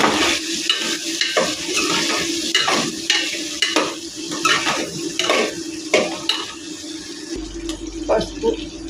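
Vegetable pieces for sambar stirred around a pan, giving repeated scraping, clattering strokes with a light sizzle underneath, fairly close and steady throughout.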